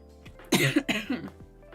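Two harsh, close coughs in quick succession, loud and abrupt, with a quiet room behind them.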